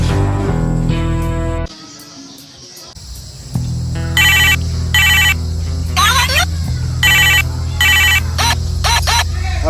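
A mobile phone rings loudly, its ringtone repeating in regular short bursts after a moment of other background noise, close and clear.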